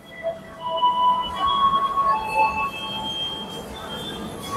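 Commuter train at Tanah Abang station platform in Jakarta, steady rumble with high metallic wheel squeals and brake whines drifting in and out, moderately loud ambience on the platform.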